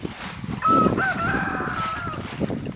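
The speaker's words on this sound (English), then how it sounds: "a Rhode Island game rooster's having a crow fest" A Rhode Island game rooster crows once in a long, drawn-out call at sunrise, fairly close, over faint background noise.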